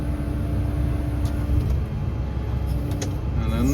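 A mini excavator slews on a road-clearing job, its engine running at a steady, loud, close rumble, with faint clicks and creaks from the machine over the top.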